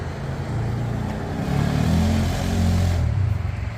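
A Big Red utility vehicle circling around, its engine droning steadily at medium distance and swelling slightly as it passes, with no talk over it.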